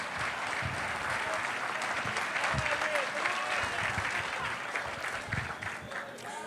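A church congregation applauds steadily and fairly loudly, a dense sustained wash of many hands clapping with voices mixed in underneath.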